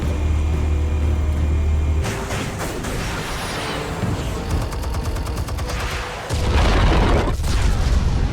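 A loud, sustained blast of armed explosives going off in Batman: The Telltale Series, with a rumbling boom that rolls into crackling debris and gunfire-like bursts, then a second heavy low surge near the end.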